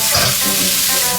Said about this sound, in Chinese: 炝一下锅，土豆给它倒进去